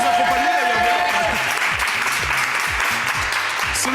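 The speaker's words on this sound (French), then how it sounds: "Voilà, et on l'applaudit" Studio audience applauding the returning champion on a French TV talent show, a dense, steady wash of clapping at full volume throughout, with a few voices rising over it.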